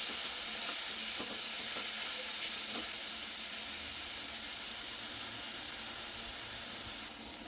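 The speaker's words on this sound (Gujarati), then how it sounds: "આદુ મરચાંની પેસ્ટ ઉમેરી દઈએ અને સરસ સાંતળી લઈશું" Ginger-chili paste sautéing in hot oil with curry leaves over a low gas flame, giving a steady, close, bright sizzle that carries on evenly, with a few faint clicks of stirring and no talking.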